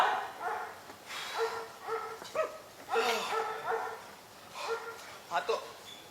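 Dogs barking in bursts of yips and barks in a Hindi comedy stage play, the barks fairly close and mixed with people talking.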